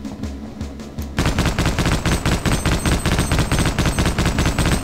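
Half-Life: Opposing Force gunfire, a few lighter shots, then a loud, steady automatic stream of rapid evenly spaced bursts close up, continuing without pause.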